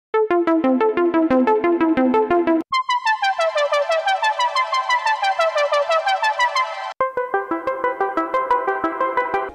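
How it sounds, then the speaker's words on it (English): A Serum synth plays a fast arpeggiated sequencer pattern of evenly pulsed plucky notes, cascading up and down in steady rhythm through three sections, loud and clear with no voices. "how to make arpeggiator sequencer in Serum"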